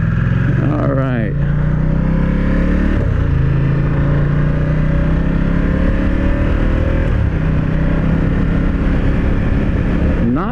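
Ducati XDiavel S motorcycle engine drones steadily while riding, a loud continuous note with a rev change near the start and end, and a rider talking over it.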